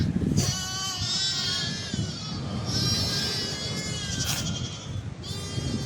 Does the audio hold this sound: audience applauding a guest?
no